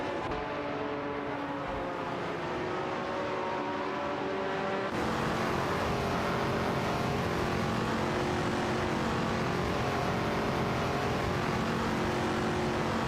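Race car engines drone continuously in an AI racing video game, a dense sustained roar with several overlapping engine tones, loud and unbroken, with a sudden shift in the mix partway through.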